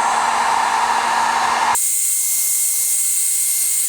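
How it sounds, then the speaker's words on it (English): Heat gun blowing hot air onto heat shrink tubing over truck light wiring, a loud steady whoosh that abruptly shifts to a higher-pitched, thinner hiss partway through and runs without talk. "I'm going to go ahead and get my heat gun and heat shrink it now"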